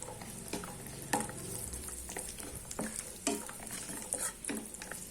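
Peeled white garlic cloves frying in a pan over a medium flame for a spicy garlic chutney, with a steady sizzle and repeated scraping stirs of a spoon against the pan, close up.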